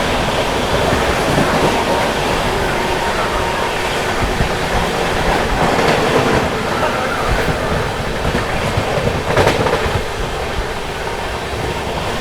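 The Anand Vihar–Kamakhya North East Express rushes past on a triple-line section near Aligarh Junction, a loud, sustained rumble and rattle of wagons that swells briefly in places.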